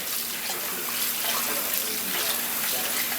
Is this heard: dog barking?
no